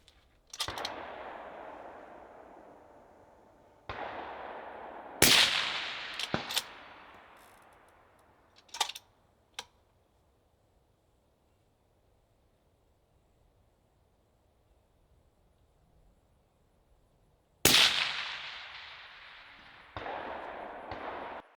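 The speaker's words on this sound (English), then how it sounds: "I'm shooting a 6BR." Shots from a 6BR precision rifle at a PRS precision rifle match: several sharp, loud cracks spaced seconds apart, each trailing off in a long echo, with a long quiet stretch between groups.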